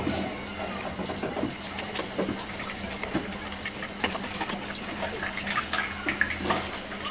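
A soft, steady trickle of water pours into batter with light hiss, dotted with small clinks and taps nearby.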